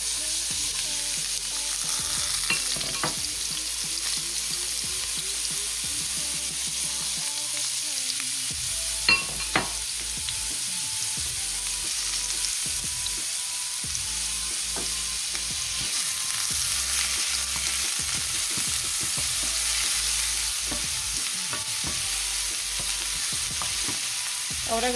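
Onion sizzles in a pan for nopalitos con huevo, a constant crackling fry with frequent scraping stir strokes and occasional utensil taps.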